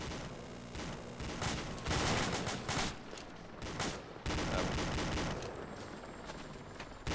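Heavy .50 caliber machine gun fire in ArmA II, with repeated loud bursts and volleys of gunfire rolling through a combat scene, dense and sustained with brief lulls between strings of shots.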